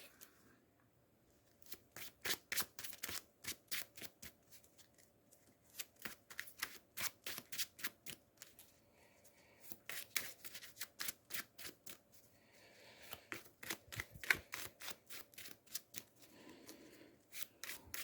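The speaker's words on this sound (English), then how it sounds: "So these get shuffled back in the deck." Marvel Champions game cards are riffle-shuffled again and again, each pass a crisp rapid flutter, with short pauses between bursts; close and fairly quiet, no talking.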